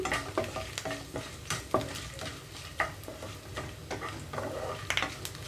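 Spices and chopped garlic temper in hot oil in a pan for a mixed vegetable fry, a soft sizzle broken by repeated scraping and clicking strokes of a stirring spoon against the metal.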